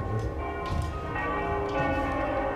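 Rope-pulled church bells at San Andrés in Madrid, rung for the 11-M anniversary, sounding as sustained, overlapping metallic tones with a loud strike near the start and rich lingering resonance, heard close and without talk.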